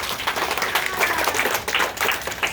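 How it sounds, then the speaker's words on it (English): Applause from a camp gathering for the campers' parents: steady, dense clapping from a sizable crowd, moderately loud and continuous throughout, with a few voices mixed faintly underneath. "Can you give your parents a big round of applause?"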